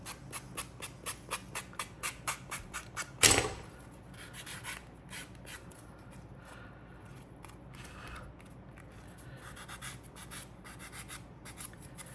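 Leather shoe edges being trimmed and sanded to remove burrs, with a quick run of rhythmic scraping strokes up front, one sharper louder scrape, then softer continuous rubbing close by without speech.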